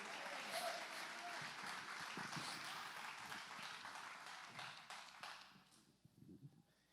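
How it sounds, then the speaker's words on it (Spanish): Applause from a church congregation for Jesus, strong and continuous for several seconds before thinning out into scattered claps and quieting. "Denle ese fuerte aplauso al Señor Jesús en esta hora"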